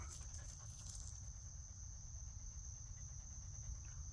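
A dog panting steadily nearby, a soft continuous rhythmic breathing under a constant high-pitched background hiss, with no talking.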